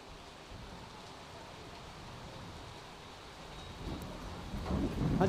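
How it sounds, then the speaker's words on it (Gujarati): Heavy monsoon rain pours steadily over Navsari, Gujarat, a continuous wash of noise that swells louder toward the end, where a low rumble of thunder seems to build beneath it. "નવસારી શહેર અને જિલ્લામાં સવારથી જ મેઘરાજા મન મૂકીને વરસી રહ્યા છે"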